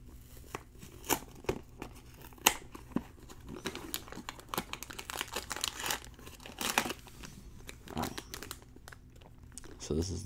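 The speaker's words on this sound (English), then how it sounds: "Let's open it up. Don't want to rip the box too bad." Cardboard Loot Crate box being opened and its plastic wrapping crinkled, giving close, irregular crinkles, rips and taps throughout, with soft background voices.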